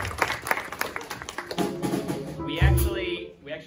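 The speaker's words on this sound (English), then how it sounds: "So round of applause to him." An audience applauds at a college jazz ensemble concert, a brief burst of scattered clapping heard under and around a speaking voice in a hall.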